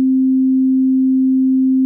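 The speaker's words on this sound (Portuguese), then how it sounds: "Um som que não tem harmônicos é uma onda senoidal." A pure sine wave tone with no harmonics, a single steady frequency held at constant loudness for about two seconds and then cut off abruptly.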